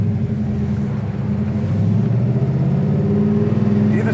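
A 1969 Chevelle Malibu SS engine idles with a steady, deep rumbling drone that holds constant throughout, close and fairly loud.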